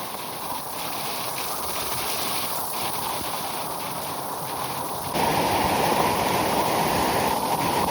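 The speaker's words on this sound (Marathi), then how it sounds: "ज्यादा पानी आ रहा है ऊपर से" Rainwater rushing down a rocky trekking path on the Ganesh Ghat route to Bhimashankar during monsoon rain, a steady close roar of running water that swells noticeably louder partway through, with no voices.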